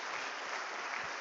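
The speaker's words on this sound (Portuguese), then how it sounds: "Dá um aplauso bem forte a Ele." A church congregation applauds loudly and steadily during a celebration service, a dense continuous wash of clapping from a large crowd with no pauses.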